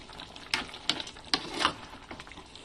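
Chili is stirred into sweet and sour tuna belly frying in a pan, giving four or five quick scraping strokes over a soft, steady sizzle.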